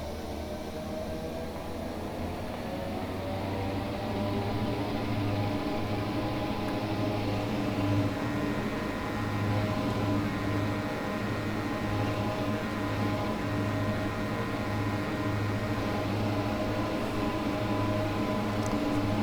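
A diesel locomotive climbing the Wasatch Grade in Train Simulator Classic, a steady loud droning exhaust and engine hum with layered harmonic tones that swell slightly midway and hold without interruption.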